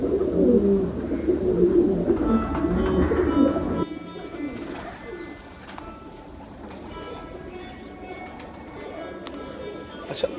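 Teddy pigeons coo in low, throaty murmurs, loud and close for the first few seconds, then softer and intermittent, with faint chirps and background noise.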